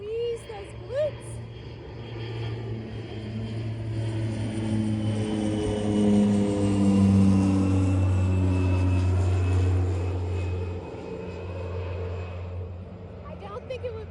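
A propeller airplane drones overhead, its engine hum building from faint to loud and fading away over several seconds, with a person talking briefly near the start.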